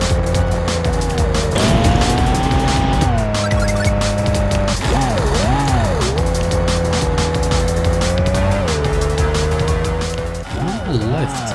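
Racing car engine in Super Pixel Racers on Switch, a continuous loud tonal whine rising and dipping in pitch as the car speeds up and takes corners, with brief tire squeal.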